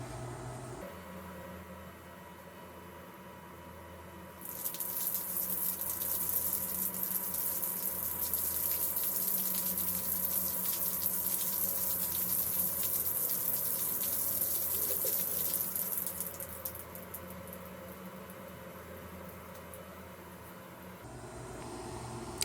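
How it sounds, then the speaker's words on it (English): Water pours steadily from about four to seventeen seconds as a hanging basket of Stanhopea orchids is watered, a loud, close, continuous hiss that stops cleanly, with no voices. "So I will show you guys what it looks like when water comes out the bottom of the basket and ends up hitting the flowers."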